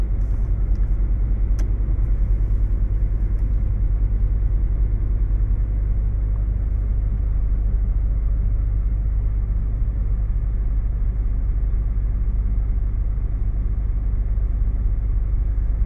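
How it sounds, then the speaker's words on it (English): Cars and vans drive off a vehicle ferry onto land, a continuous loud low rumble of engines and tyres on the ramp, close and steady, with no voices. "They'll let this van off and let all the cars and vans off before they let the trucks off"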